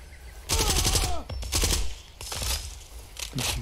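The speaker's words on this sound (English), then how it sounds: "Please see, look, I fire one shot." Gunfire in Far Cry 2: several loud, close bursts of rapid shots in quick succession, separated by short pauses, with no voices over them.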